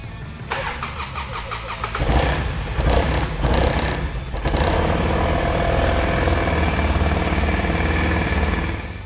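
An engine cranks in short bursts, catches and then runs at a steady, loud, close idle after a freshly serviced fuel system and new throttle cable.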